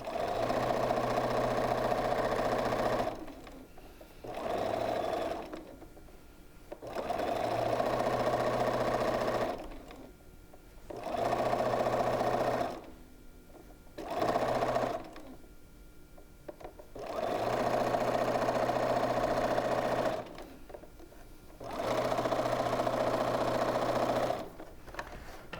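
A sewing machine stitches a quilt block in bursts of steady mechanical whirring, several runs of a few seconds each separated by brief pauses, close and clear with no talking.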